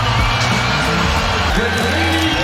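An NBA basketball arena crowd roars and cheers loudly and continuously, with whoops and yells in a dense, sustained wall of noise over a short stretch.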